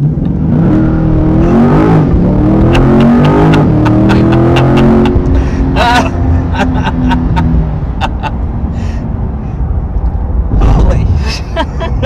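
A 2022 Chevy Corvette Stingray accelerates hard on the road, its engine note rising through the gears with a loud, close interior roar, while people exclaim and talk over it.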